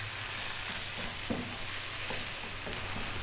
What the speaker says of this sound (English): just frying these around on an above medium heat